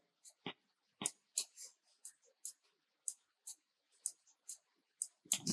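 Clicks from computer keyboard arrow keys, pressed while rotating a 3D object in Adobe Illustrator: a dozen or so short, crisp taps at uneven intervals, close and fairly quiet, with no talk.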